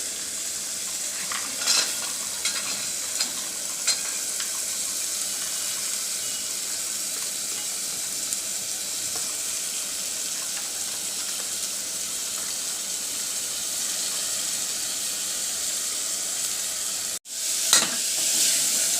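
Dal and peanuts sauté in a hot pan with green chillies for palak bhaji, giving a steady, close hiss of frying under light stirring scrapes, with a brief dropout near the end, and no voices.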